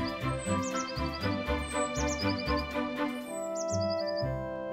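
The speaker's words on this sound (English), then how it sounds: "The birds were chirping." Birds chirping on a sunny day, several short high tweets in repeated bursts, set over a steady musical backing.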